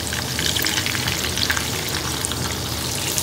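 Tofu sizzles steadily and loudly in a hot pan of oil as it is flipped, a dense, continuous frying crackle with no voices.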